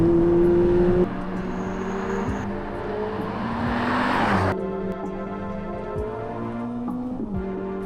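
A Ferrari 849 Testarossa, a 1050-horsepower hybrid with a 4-litre V8 and three electric motors, drives with a steady engine drone that swells as it accelerates and shifts, heard from inside, with no talking.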